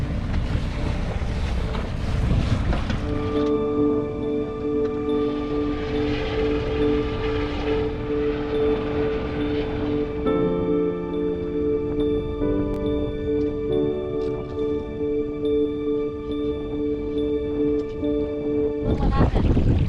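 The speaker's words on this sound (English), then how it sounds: "A big old boat coming up." A large boat's engine drones steadily with a sustained tonal hum as it passes on the Colorado River in the Grand Canyon, under heavy wind buffeting the microphone and rushing water.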